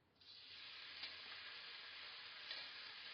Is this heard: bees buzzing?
no